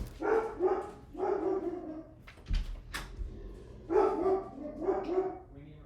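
Excited barking and yipping from house dogs, including one named Winnie, comes in close, loud bursts with a short thump and whimpering in between.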